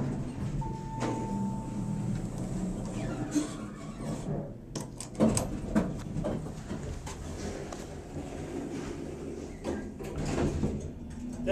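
An OTIS elevator door at a public library slides open and shut, its worn mechanism giving rattling, clunking knocks over a steady hum, near and moderately loud with no talking.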